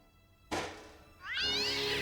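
A cat in the video game Broken Sword Reforged lets out one sudden loud cry, then a rising, drawn-out meow close by, with no voices.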